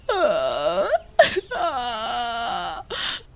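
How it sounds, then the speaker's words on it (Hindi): A girl cries and sobs loudly in long wailing, moaning bursts, with a sharp gasping breath between them, close and alone, over her dupatta chewed up by rats. "सरपंच की बेटी अपनी ओढ़नी देखकर बड़ी बुरी तरह रो रही थी"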